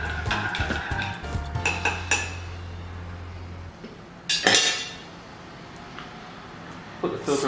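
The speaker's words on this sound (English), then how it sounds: "Let it stir, let it brew." Coffee stirred in an Aeropress during brewing, a few clinking and scraping spoon strokes at the start, then a quieter stretch broken by a sharp clatter, close up with no talk.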